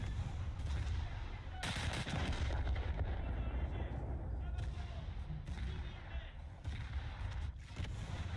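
203mm US naval guns firing in War Thunder, several heavy booming shots at irregular intervals over a constant low rumble of battle noise.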